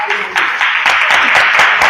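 A church congregation claps together during a prayer, a dense, steady patter of many hands that fills the space beneath a speaking voice.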